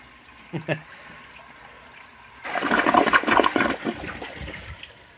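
A blue 1972 Kohler Wellworth toilet flushes nearby, a sudden loud rush of water that swirls and then fades, following a few faint clunks of the handle and tank.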